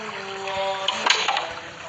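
Running water in the Evil Nun horror game, a steady broadband trickle and splash flowing continuously, with a few brief clicks and knocks near the middle.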